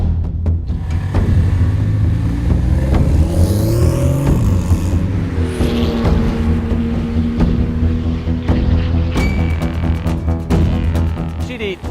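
Porsche 911 GT2 RS Clubsport race car engine, a loud continuous roar heard close, with pitch sweeping as the car shifts and accelerates, mixed with wind buffeting and a voice speaking over it.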